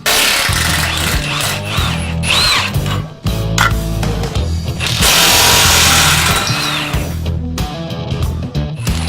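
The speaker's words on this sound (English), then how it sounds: "These new cordless power tools are nearly making air tools extinct." A cordless impact wrench hammers and whirs in loud bursts, pausing briefly between runs as bolts come loose.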